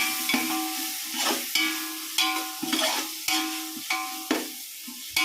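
Onions and tomatoes fry in a pan while being stirred for a carrot, beetroot and coconut milk biryani, a close sizzle punctuated by regular scraping strokes of the spoon.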